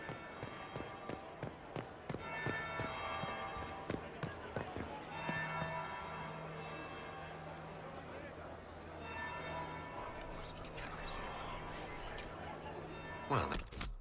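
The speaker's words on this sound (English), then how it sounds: "That would be the second bell." A bell in the video game Dragon Age Inquisition rings out with repeated resonant strikes, mixed with footsteps, thuds and game ambience, with voices at times.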